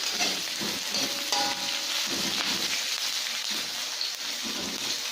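Coarsely sliced onions sautéing in a pan give a gentle, continuous frying hiss, with faint stirring scrapes now and then, all fairly quiet.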